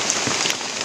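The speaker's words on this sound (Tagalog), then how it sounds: "Malakas ang ulan" Dense, steady rain pours down in a forest, hissing loudly and continuously across a hard surface.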